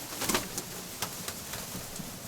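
Pigeons kept in a loft coo softly at close range, a few short low murmurs and faint chirps rising over a quiet background, with no voices.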